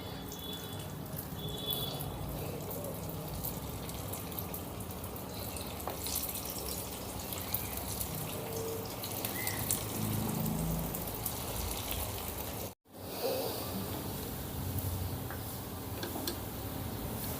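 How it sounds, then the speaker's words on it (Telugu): Veg manchurian balls deep-frying in hot oil until golden, giving a steady close bubbling crackle with scattered small pops throughout and a brief cut near the end. "ఇలా గోల్డ్ కలర్ వచ్చేంత వరకు చక్కగా ఫ్రై చేసుకోవాలి"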